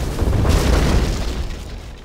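A particle cannon blast in the real-time strategy game Command & Conquer Generals Zero Hour lands as a single deep, booming explosion that swells quickly and then rumbles off over about two seconds.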